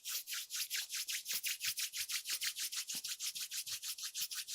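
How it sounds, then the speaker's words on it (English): Palms rubbing briskly together during a gentle yoga session, a steady rhythm of about five quick dry swishes per second, close and clear with no talking. "Rub your palms."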